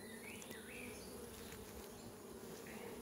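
Honey bees buzz around an open beehive in a dense, steady hum of many insects, constant and fairly soft throughout, with no voices over it.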